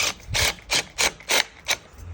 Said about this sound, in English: We're gonna install a molly. It's a plastic insert. We're gonna hammer it.